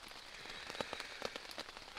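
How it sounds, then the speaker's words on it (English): Rain falls during a bikepacking trip through Sweden, a soft, steady patter with scattered sharper drop impacts close by, fairly quiet and with no voices. "It's just rain."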